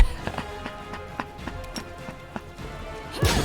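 Horse hooves in the video game Pathfinder: Wrath of the Righteous, a quick run of clip-clop hoof strikes beating in steady rhythm, moderately loud, ending in a sharper burst of noise.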